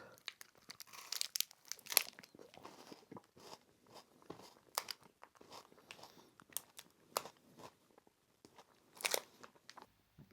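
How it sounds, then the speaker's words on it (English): A Squares protein bar is eaten close to the mic, with crinkling wrapper and crunchy bites and chewing in scattered bursts over quiet background. "Thought I'd show you guys me eating the squares bar."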